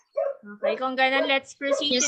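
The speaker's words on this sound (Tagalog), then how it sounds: "Pasensya na sa ingay ng aso." A dog barks and yips in the background during an online school orientation, its sharp calls mixed in under someone speaking.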